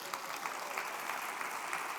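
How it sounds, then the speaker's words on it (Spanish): A church congregation at a Spanish-language service claps together, a faint, dense patter of hands heard alone for a couple of seconds. "Denle un aplauso al Rey bendito"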